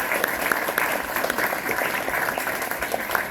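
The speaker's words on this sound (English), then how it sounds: "let's give them a round of applause" Sustained audience applause at an award ceremony, a dense steady wash of many hands clapping throughout, fairly loud and unbroken for the full stretch.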